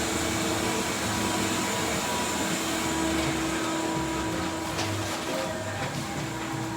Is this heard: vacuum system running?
yes